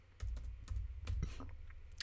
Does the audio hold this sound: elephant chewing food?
no